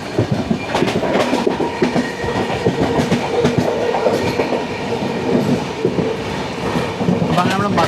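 Moving long-distance Indian express train, steady close rumble with clickety-clack from the railway carriages rolling over rail joints, continuous and loud throughout, with a faint voice mixed in.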